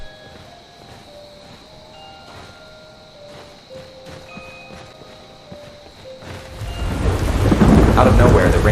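Heavy rain and thunder in the video game Skyrim: a quiet stretch with soft tonal music gives way to a sudden loud surge of pouring rain and rumbling thunder that builds and swells toward the end.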